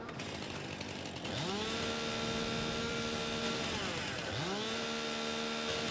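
Chainsaw grinding into a tree stump in Farming Simulator 22, two sustained high revving bursts that rise sharply, hold a whining buzz, then drop off, loud and close with no speech.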